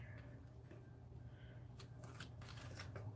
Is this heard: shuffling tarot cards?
yes